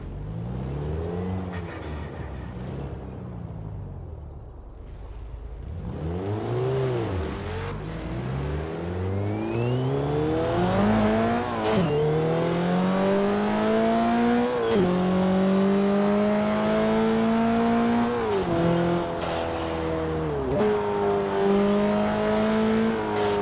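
Cars in the racing video game Forza Horizon 4 rev and accelerate through repeated gear changes, engine pitch climbing and dropping in rising sweeps, loud and continuous with no talk.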